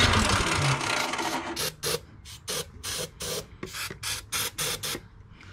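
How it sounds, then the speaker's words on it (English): Starting ether sprayed down into the carburetor of a Toro 721 snowblower: a long initial hiss followed by about ten short, evenly spaced bursts, close and loud. "shoot ether straight down in it and see if we can get a better result just shooting ether right down in it"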